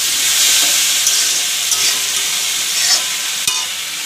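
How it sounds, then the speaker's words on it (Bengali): Ginger, garlic and chili paste with bay leaf and tomato frying in a pan, a loud continuous sizzle with steady hiss and occasional stirring scrapes, close up with no talk. "ভেজে নিচ্ছি ভালো করে।"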